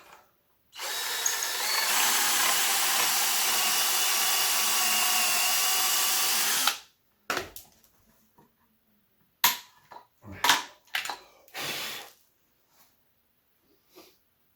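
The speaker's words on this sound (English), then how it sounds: "And I'm gonna drill." A power drill drills a pocket hole in clamped wood, running loud and steady for about six seconds, then stops, followed by scattered clunks and clatter nearby.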